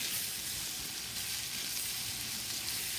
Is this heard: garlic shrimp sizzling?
yes